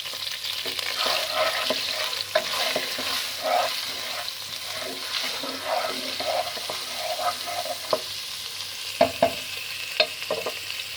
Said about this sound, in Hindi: हल्का सा फ्राई करेंगे। लहसुन अदरक डाल दिया है